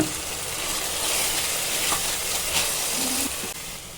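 Chili powder being stirred into an onion-tomato masala frying in a pan for chicken biryani, a steady close sizzle and hiss with faint scraping of the spoon throughout.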